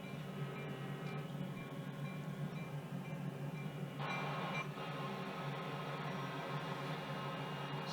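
A long CSX heavy-haul freight train rolls steadily at low speed, a continuous rumbling drone with faint rail squeal tones and a brief brighter clatter midway, no voices.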